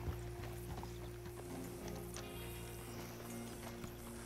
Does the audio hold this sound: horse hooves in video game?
yes